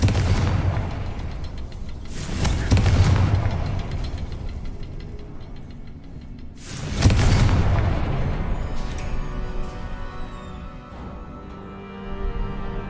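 Two heavy booming blasts from the Confringo fire spell in the Hogwarts Legacy video game, a few seconds apart, each with a rumbling tail, followed by quieter game ambience.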